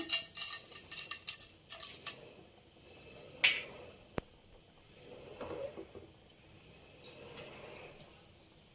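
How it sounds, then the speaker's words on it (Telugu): Tempering seeds dropped into well-heated oil for a greens fry crackle and pop close by, with a dense burst of sharp snaps at first that thins to scattered pops. "బాగా ఆయిల్ వేడేసిన తర్వాత తాలింపు గింజలు వేసుకుందాం"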